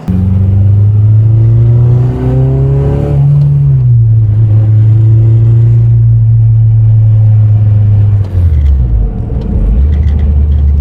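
A 2007 Honda Civic Si FA5 with a naturally aspirated high-revving engine drones loudly at high revs, holding a steady pitch, easing down, then dipping and rising again near the end, close and alone.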